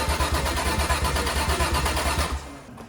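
BMW E36 wagon engine cranking with a rapid rhythmic churn for over two seconds, then catching and falling quiet, close and moderately loud in cold weather.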